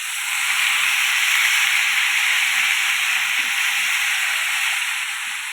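Ridge gourd peels frying in a pan for a tomato chutney, giving a steady close sizzling hiss that holds evenly from start to finish with no talking.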